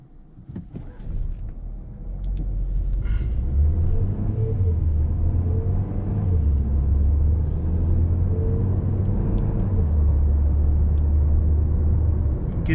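Steady low engine drone and road rumble inside a moving 2020 Mercedes-Benz A180 (W177) at highway speed, with the pitch rising and falling gently as it cruises along.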